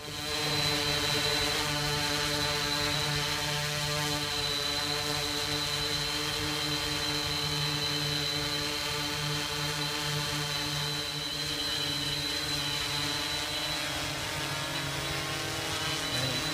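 A Blade Chroma camera drone hovers nearby under GPS lock, its rotors giving off a steady, loud, high-pitched buzzing whine that holds evenly throughout with no voices.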